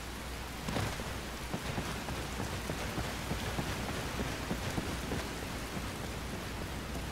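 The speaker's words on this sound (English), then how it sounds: "The rain looks pretty." Steady rain in Skyrim, a dense, even hiss of falling drops that runs unbroken throughout with no voices and a faint low rumble beneath.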